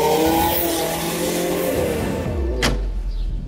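A Kimera EVO37 mid-engine sports car drives past loud and close, its engine note rising and falling, then a sharp swell as it sweeps by and fades into a lower rumble.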